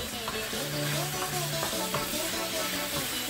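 Chicken stirred and frying in a pan for Thai green curry, a steady close sizzle with scraping stirs of a utensil against the pan running throughout, no talking.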